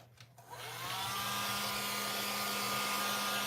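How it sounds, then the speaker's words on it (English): A hair dryer blowing over watercolor paper switches on and ramps up to a loud, steady whooshing roar with a constant motor hum, running alone without talk. "So I'm gonna use the hair dryer."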